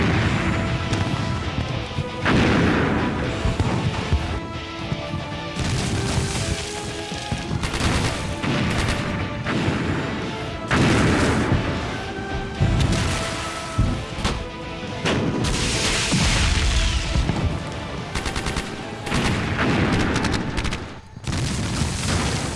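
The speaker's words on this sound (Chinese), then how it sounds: "让炮团一营集中火力轰击蓝军堤防阵地" Artillery pounds enemy levee positions during a river-crossing battle in a Chinese special-forces war film, a dense, loud barrage of booms, blasts and crashing impacts rolling continuously with no talk.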